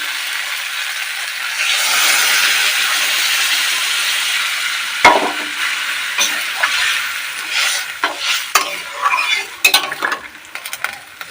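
Soybean and potato curry fries in a pan with a steady sizzle, followed by sharp clinks and scrapes of stirring against the pan.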